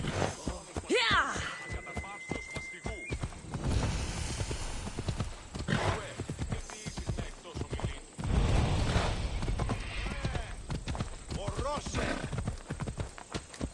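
Horse hooves clip-clop in a gallop in the video game Assassin's Creed Odyssey, steady and fairly loud, with a whinny near the start and voices talking over the ride.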